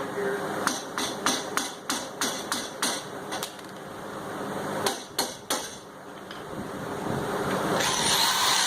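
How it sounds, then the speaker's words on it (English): A metal hammer strikes a part of a mower sulky in a rapid series of sharp, loud blows, pauses, then lands a few more hits before a quieter stretch. "so let's go ahead and hammer this down"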